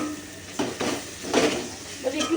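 Tomatoes softening in a pot for mixed khichuri are stirred with a utensil, giving a few scraping, clattering strokes over a low simmering sizzle.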